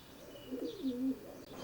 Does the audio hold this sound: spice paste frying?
no